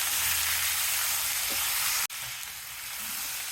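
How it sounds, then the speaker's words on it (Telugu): Ivy gourd pieces hit hot oil with a seasoning of chana dal and urad dal and are stir-fried, a loud steady sizzle broken by one sharp clunk before the frying hiss carries on. "వేగింది కదా, తిరగమాత దొండకాయ ముక్కల్ని వేసేసి ఒకసారి తిప్పండి."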